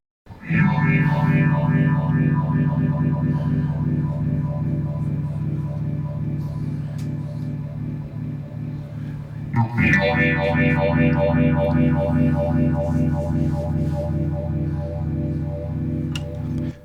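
Distorted electric guitar chords played through a BOSS ME-25 multi-effects unit ring out through heavy effects, sustaining, then a fresh strum with a brighter, layered processed tone.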